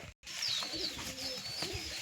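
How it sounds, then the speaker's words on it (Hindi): Red pigeons coo close by in a few soft, throaty calls, with faint chirps and light background noise around them after a brief silent gap at the start. "लाल कबूतर"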